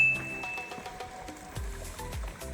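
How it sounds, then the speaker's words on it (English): Water runs through a fill tube into a customer's water cistern, a faint, uneven trickling and gurgling under low mechanical hum and occasional clunks, with no talk. "we are filling up the customer's water cistern"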